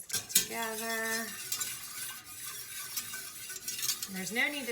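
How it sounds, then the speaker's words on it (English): A custard mixture of egg being whisked in a pot for homemade ice cream, light rhythmic scraping and clinking of the whisk against metal, soft and close, with a voice briefly heard. "Whisk it together."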